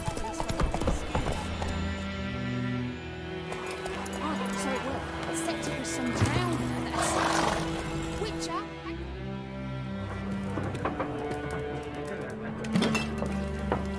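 A horse's hooves clip-clop at a quick, steady rhythm in the video game Assassin's Creed Syndicate, close and moderately loud, with faint clinks, game voices and other game sounds mixed in.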